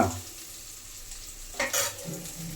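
Onions frying in a pan for paneer butter masala, a steady close sizzle with a couple of louder stirring scrapes near the end.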